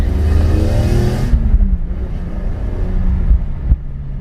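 A car driving and accelerating on a private drive, a loud close engine roar that eases off, then steady running with a sharp thump near the end.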